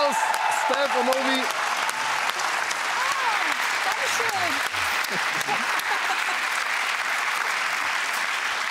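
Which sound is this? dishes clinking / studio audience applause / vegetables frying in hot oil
studio audience applause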